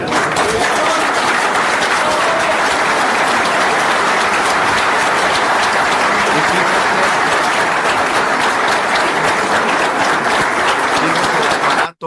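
A large audience applauds loudly and steadily for about twelve seconds, a dense wall of clapping that stays level throughout before cutting off sharply at the very end.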